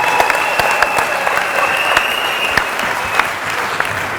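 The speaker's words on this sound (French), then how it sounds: "On peut applaudir le mariage." A wedding ceremony audience claps for the married couple with steady, full applause that continues throughout, over a thin sustained tone.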